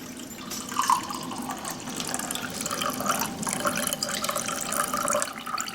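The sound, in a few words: pouring pepperoncini juice into a measuring cup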